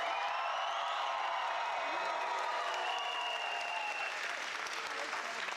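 Audience at a Horizon Science Academy Toledo graduation ceremony cheers and claps for graduates as they enter, a steady, dense wash of applause with whoops from a large crowd throughout.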